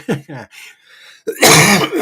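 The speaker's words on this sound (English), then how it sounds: "Oh, sorry, I coughed." A woman gives a single loud, rough cough close to the microphone near the end. Brief bits of her speech come before it, separated by a pause.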